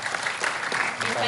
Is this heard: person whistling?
no